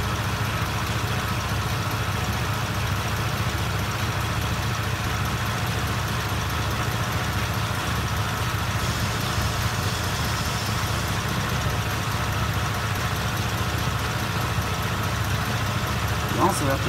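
2020 Chevy Express van engine idling in park, a steady continuous low rumble with a broad hiss, close and unchanging throughout.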